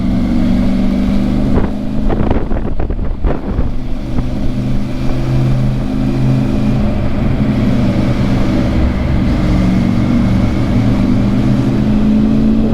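A Triumph Tiger motorcycle engine drones steadily while climbing a steep Swiss mountain pass. Heavy wind buffeting on the microphone nearly drowns it, with a brief rise in engine noise early on and no speech.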